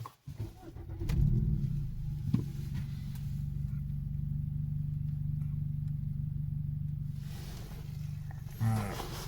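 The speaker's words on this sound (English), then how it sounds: "I'm going to start the car up." Hyundai Elantra N Line starting after a short crank, then settling into a steady low idle for several seconds, heard from inside or near the car with nobody speaking.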